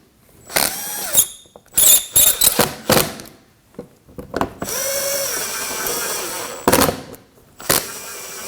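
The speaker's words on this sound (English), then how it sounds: "We'll just get a couple of the screws started in to hold it up, and then I get the rest in." A power drill drives screws into the front bumper of a 2015-2024 Ford Edge. Several short whirring bursts and ratcheting clicks are heard up close, along with one longer sustained run, and no talking.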